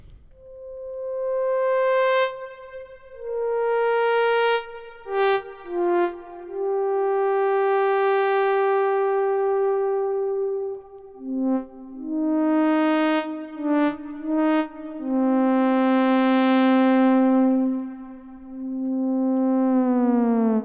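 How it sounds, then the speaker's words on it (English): A Thor synthesizer patch through a low-pass ladder filter, drenched in film-score reverb, plays sustained gliding tones that bend and swell, with sweeping bright overtones and long echoing tails, alone and fairly loud. "if I add a bit of film score reverb to this sound."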